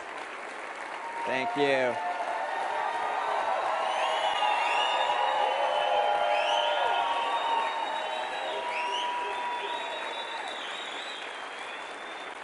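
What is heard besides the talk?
audience applause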